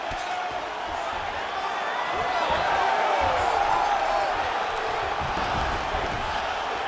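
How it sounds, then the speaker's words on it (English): A virtual arena crowd roars steadily at a UFC bout between Khabib Nurmagomedov and Johnny Walker in EA Sports UFC 5, a dense, continuous wash of cheering that swells slightly midway. "So the crowd absolutely loving it as these fighters work their way back to the feet."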